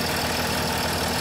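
A Mercedes/Dodge Sprinter engine idles with a steady, loud, close rumble and no change over the short stretch.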